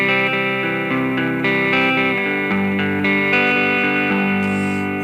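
A sustained electric guitar chord rings out through a clean, reverb-rich Twin Reverb amp model on a Boss GT-1000 Core, fading slightly as new notes are struck.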